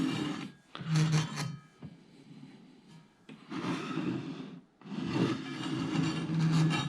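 DeWALT DWE7492 table saw blade rubbing, heard as several close scraping, rasping sweeps separated by brief pauses, fairly quiet with no talking.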